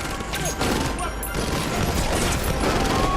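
Heavy gunfire in a film shootout between a robber and FBI agents, dense overlapping bursts and booms filling the whole stretch, loud and continuous with crashes mixed in.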